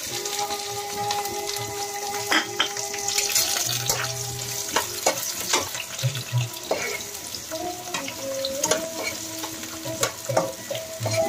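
Chopped onion fries in mutton fat with chilli and cumin for ghugni, sizzling steadily while a spoon stirs and scrapes the pan in irregular knocks and clatters, close up and with no one talking.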